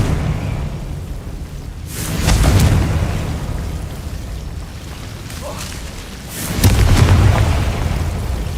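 Confringo fire-blast spell explosions in the Hogwarts Legacy video game: two loud, booming bursts several seconds apart, each with a rushing whoosh, set against a steady low rumble of battle ambience.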